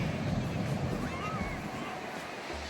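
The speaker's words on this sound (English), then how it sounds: "these waves and this current is not playing today. Like, these are some real waves." Ocean surf rolls steadily along the rocky Big Sur coast, a broad continuous wash of breaking waves under gusty wind buffeting the microphone, with no voices over it.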